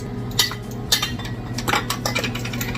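Glass canning jars clink and knock together in a few sharp, bright taps while being filled with fresh green beans, close by over a low background hum.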